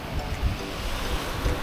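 Surf washing onto a beach at Nusa Lembongan, Bali, a steady broadband wash with soft swells rising and falling, wind noise brushing the microphone, no voices.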